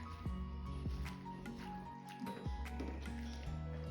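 Wet squishing and dripping as washed spinach drops into a pot of hot water, with soft splashes and a low background hum.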